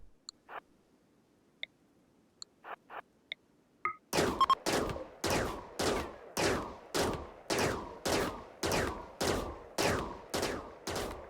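Rapid bursts of gunfire in the video game RimWorld, aimed at a wall: a few faint clicks first, then about a dozen loud, evenly spaced shots, close and alone.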